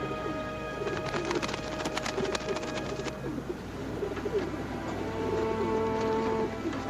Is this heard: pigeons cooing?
yes